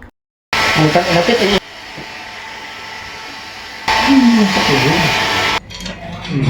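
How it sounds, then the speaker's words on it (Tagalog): A hotel hair dryer whirs loudly in two long bursts, with quieter stretches between, while a person talks over the blowing. "Gusto niya ma-experience yung blower ng hotel."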